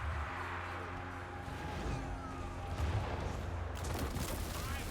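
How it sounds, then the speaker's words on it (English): Distant crackle and booms of battle gunfire as a tower fires into a settlement in Warhammer 2: Total War, a low rumbling backdrop with faint sharper bursts in the second half. "Did the tower just fire into the settlement?"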